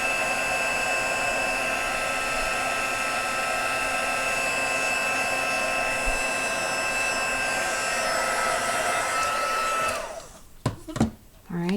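A craft heat tool blows hot air over a faux metal layer, a loud, steady whine with a high electric tone that runs unbroken and then clicks off, followed by a few soft handling knocks.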